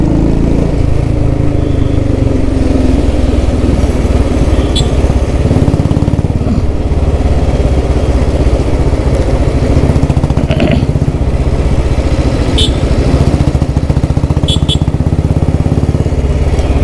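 A Thunderbird motorcycle engine runs steadily and loudly nearby, a continuous throbbing rumble that stays even throughout, with occasional small clicks.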